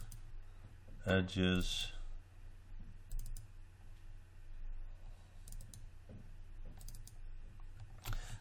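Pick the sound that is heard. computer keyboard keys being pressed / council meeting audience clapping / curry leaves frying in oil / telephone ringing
computer keyboard keys being pressed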